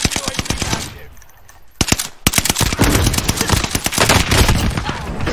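Rapid bursts of video-game gunfire, automatic fire crackling in dense repeated volleys with a short lull partway through, loud and close throughout.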